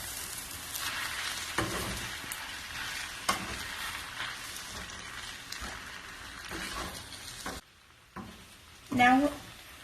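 Noodles stir-frying with onions as reserved sauce is added, a steady sizzle punctuated by spatula scrapes and taps, ending in a brief pause and a louder splash of sizzle.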